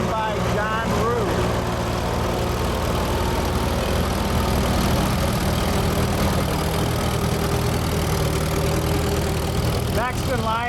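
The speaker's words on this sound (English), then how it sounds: "Next in line is a 1940 Model M International, owned by Joe White, being driven by Ryan Wh" A 1940 International Model M antique tractor, pulling a three-bottom Oliver plow at an outdoor antique tractor and plow event in Elburn, Illinois, runs with a steady, loud engine drone throughout, with other sounds above it.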